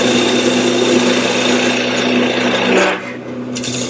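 A powered honing wheel, contoured to fit the inside flute, sharpens a woodturning gouge with a loud, steady whirring rasp over a constant motor hum that eases off briefly near the end.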